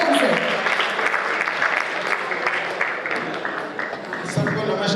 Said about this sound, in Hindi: जोरदार तालियां हो जाए to welcome gentleman on stage